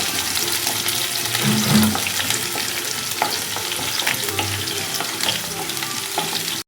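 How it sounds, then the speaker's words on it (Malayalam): Ginger and garlic being stirred in a pan while making a Kerala-style pickle give close scraping and sizzling, with a brief tap-water splash partway through. "ഇഞ്ചി വെളുത്തുള്ളി ഇട്ടത് നന്നായിട്ടൊന്ന് മിക്സ് ചെയ്യണം"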